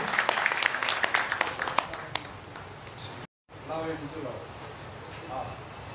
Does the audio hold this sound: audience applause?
yes